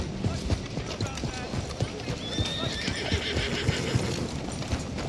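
A horse in Red Dead Redemption 2 clip-clops along in a steady hoof rhythm, with a neigh rising partway through, while voices talk over the scene.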